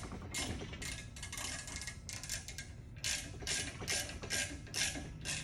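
A ratchet tightening bolts on a springer assembly, making fast close-up clicking in short repeated bursts separated by brief pauses, with a low mechanical rumble underneath and no talk.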